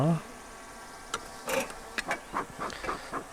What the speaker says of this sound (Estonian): Tegu on mesilastega siis.